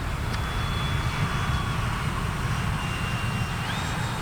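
A radio-controlled YAK-130 model jet makes a low pass with its landing gear and flaps down, its turbine giving a steady, airy whine with a thin high tone and a broad rushing roar, heard continuously at moderate distance.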